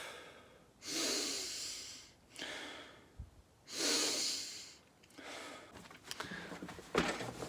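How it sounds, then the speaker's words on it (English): Deep belly breaths during a breathing exercise, heard alone and close: two long, loud airy inhalations or exhalations, then a third softer, more broken breath with faint sniffing near the end. "Breathe into your belly and then stop."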